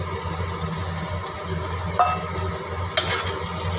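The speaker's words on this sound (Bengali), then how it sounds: "ডালটা একটু ভেজে নিচ্ছি ভালো করে" Steady low sizzling and crackle of lentils frying in oil in a pan, with a couple of brief sharp clinks of a utensil against the pan.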